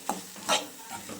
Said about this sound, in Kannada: ನೀಟಾಗಿ ಮಿಕ್ಸ್ ಮಾಡ್ಕೊಳ್ಳಿ.